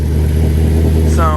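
An Audi A8 fitted with a new intake manifold runs right after a cold start, holding a loud, steady engine drone, with a brief voice near the end.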